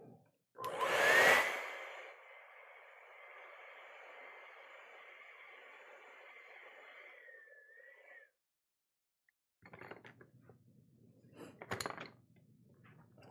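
A hair dryer blows steadily to dry acrylic paint on a desert landscape canvas, starting with a loud burst and holding a whirring hum for several seconds before clicking off, followed by quieter handling sounds.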